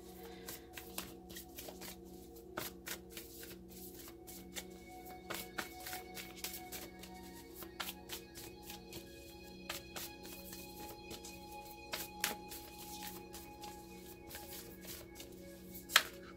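A tarot deck being shuffled by hand, with repeated soft riffling and card-slapping bursts at an irregular rhythm over a steady low hum, close and fairly quiet, ending with one sharper snap.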